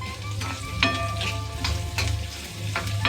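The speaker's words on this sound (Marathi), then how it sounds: "आता कांदा भाजून घेऊया." Sliced onion frying in hot oil in a pan for a black peas curry, a close, loud, continuous sizzle broken by periodic stirring scrapes, with no voices.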